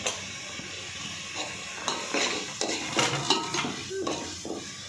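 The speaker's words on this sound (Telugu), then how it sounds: "బాగా మిక్స్ చేసుకోవాలి. మసాలా బాగా వేగిద్ది" Masala with coriander, mint and curry leaves is stirred in a pot for chicken fry biryani: a soft frying sizzle under repeated metal spoon scrapes and clinks against the pot, close and fairly quiet, with no talking.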